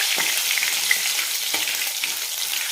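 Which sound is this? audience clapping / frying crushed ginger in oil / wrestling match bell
frying crushed ginger in oil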